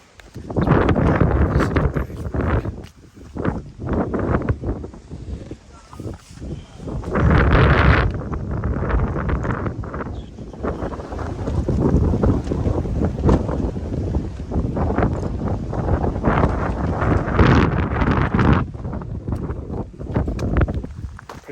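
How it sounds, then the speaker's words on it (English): Strong wind on a mountain on the Appalachian Trail buffets the microphone in loud, gusting roars that rise and fall continuously, with a brief faint voice underneath. "Windy up there"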